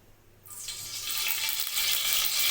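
White cooking oil heats in a kadai over a low gas flame, a faint start quickly swelling into a steady, close, bright sizzling hiss that holds to the end.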